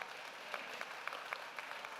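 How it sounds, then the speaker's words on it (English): A crowd at a mayoral town hall meeting gives a young boy a round of applause. The clapping is soft, steady and sounds distant, with a few sharper claps standing out. "Give him a round of applause."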